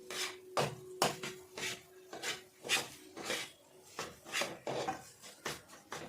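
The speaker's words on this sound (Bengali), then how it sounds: "দেখুন এই সময় আলুটিকে কিন্তু খুব ভালোভাবে আপনাদের মিশিয়ে নিতে হবে" Mashed potato being mixed with spices: a regular series of about a dozen soft scraping strokes of a utensil against the pan, quiet and close, each stroke a short rasp.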